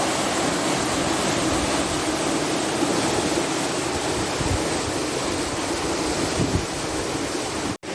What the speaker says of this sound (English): We're just draining this pound here to get it to the level of the canal